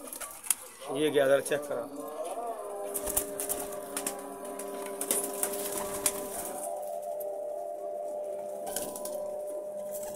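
Teddy pigeons in a breeder setup coo and rustle with steady low tones throughout, while someone talks over them.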